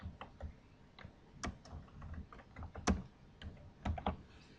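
Fingers type a title on a computer keyboard in short irregular bursts of light, close key clicks, with a few louder taps standing out and no talking.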